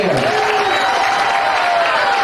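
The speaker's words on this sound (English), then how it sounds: "round of applause to our top 10" Loud, dense applause from a crowd at a county fair market goat show fills the arena, with a sustained tone running underneath.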